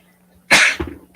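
One loud, close sneeze, a sharp burst followed by a brief rough trailing breath, standing alone in an otherwise quiet room.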